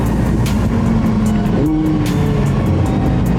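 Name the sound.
sports car engine accelerating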